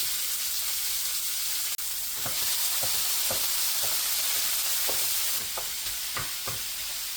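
Ground beef and mild sausage sizzle and hiss steadily in a hot pan as they brown, with repeated scraping knocks from stirring and breaking up the meat.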